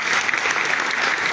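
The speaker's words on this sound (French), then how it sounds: "Est-ce que nous pouvons acclamer le Seigneur?" A church congregation at a charismatic renewal prayer assembly applauds to acclaim the Lord, a dense, steady wash of clapping from many hands with no pauses throughout.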